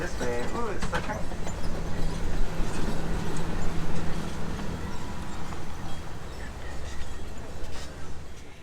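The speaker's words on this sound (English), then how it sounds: "it's the train." Train rolling past at Disney's Animal Kingdom during the Kilimanjaro Safaris ride, a steady rumbling clatter under the ride vehicle's noise and people talking nearby, fairly loud throughout.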